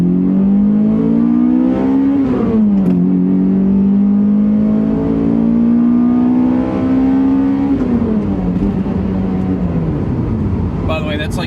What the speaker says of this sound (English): So, driving the Matrix.